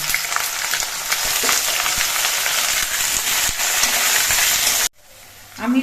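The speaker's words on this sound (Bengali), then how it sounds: "এবার এর মধ্যে আমি আলুগুলো দিয়ে দিচ্ছি" Freshly cut potatoes slide into hot oil in a pan and fry with a loud, steady sizzle and occasional stirring scrapes, cutting off abruptly near the end.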